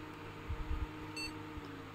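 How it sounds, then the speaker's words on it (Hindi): A Biostar 945GC motherboard buzzer gives one short, faint beep at startup against a quiet background hum. "ये बीप किया, डिस्प्ले आ गया।"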